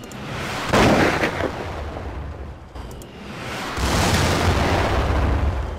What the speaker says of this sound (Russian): Сейчас будет выстрел, выстрел. Вот выстрел.